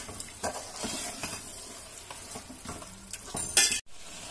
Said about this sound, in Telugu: మరి కాస్త వేగనివ్వాలి